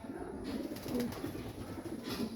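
A homing racing pigeon coos softly in a loft, low throaty murmurs repeating under a constant background hiss, fairly faint and close.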